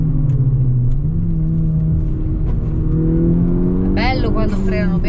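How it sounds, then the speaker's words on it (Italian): A Volkswagen Golf GTI with an aftermarket exhaust holds a loud, steady engine drone that swells into a higher rev near the end, heard close and with faint talk over it. "Abbiamo fatto questo scarico che è piacevole, perché è un bel sound"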